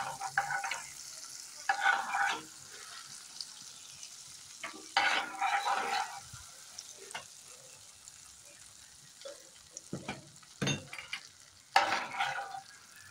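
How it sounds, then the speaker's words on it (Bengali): Butter melts in a pan while being stirred for a creamy white sauce pasta, a soft steady sizzle under bursts of scraping and stirring, with brief clatters of utensils throughout. "বাটারটা মেল্ট হয়ে যাচ্ছে"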